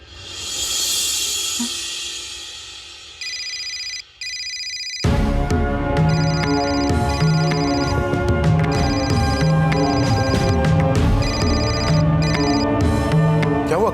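A repeating electronic ringtone melody plays loudly and steadily, preceded by a few short high beeps.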